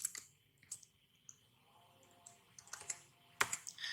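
C++ code is typed on a computer keyboard in short bursts of quiet clicking keystrokes with pauses between them, close and with no talking.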